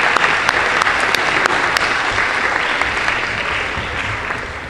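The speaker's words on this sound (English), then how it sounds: "give me a round of applause" A crowd at a school spring athletic assembly gives a loud, sustained round of applause for the track runners, dense and continuous throughout with a few sharper claps standing out.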